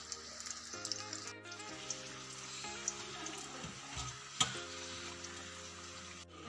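Chicken kachori frying in hot oil, a soft steady sizzle with faint bubbling, low and close, under gentle background music.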